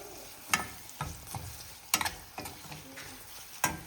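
Poha frying with sesame seeds in a pan, with a quiet steady sizzle and about six sharp scraping strokes of a spoon stirring through it, spaced roughly every half second, close and fairly soft.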